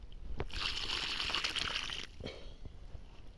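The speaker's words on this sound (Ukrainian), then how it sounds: "положили помідори і заливаємо водою" Water is poured from a container into planting holes around tomato seedlings in a small garden plot: a soft, continuous pour and splash for about a second and a half, then a few light dribbles and knocks.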